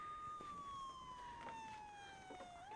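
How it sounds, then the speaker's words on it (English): A wailing siren holds a long steady tone that slowly falls in pitch, heard from some distance and continuing throughout without a break. "Okay, I think I hear the sirens."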